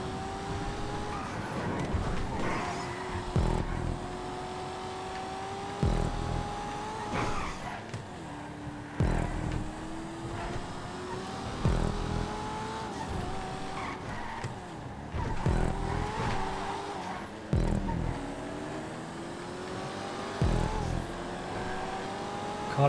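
Blue Coquette sports cars racing in the video game GTA 5, engines revving and shifting through gears in repeated rising and falling whines, with occasional tire squeals and steady mid-distance roar.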